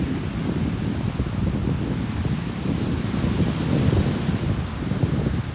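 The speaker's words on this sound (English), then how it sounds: "You gotta be careful of the wind though." Wind blowing at Belmar Beach, a constant loud low rumble buffeting the microphone, with a faint wash of surf blended underneath and no voices.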